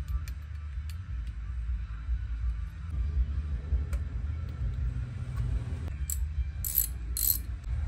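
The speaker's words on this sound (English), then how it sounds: "The same way I took the old spark plugs out, I'm gonna use this spark plug socket." Ratchet with a spark plug socket tightening spark plugs on an Acura RDX engine from 2007 to 2012, clicking pawl sounds under a low steady rumble, close and moderately quiet, with no talk.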